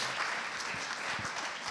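Conference audience at a business forum applauding a speaker, a brief continuous patter of many hands, moderately distant and even in level, with no talking.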